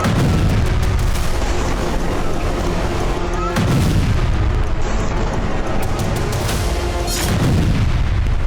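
An Israeli strike brings down a university building in Gaza: loud, heavy booming blasts roll through, with sharp impacts near the start, middle and end under a constant roar of rumbling debris.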